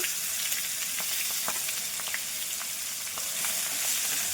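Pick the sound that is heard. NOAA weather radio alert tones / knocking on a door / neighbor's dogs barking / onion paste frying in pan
onion paste frying in pan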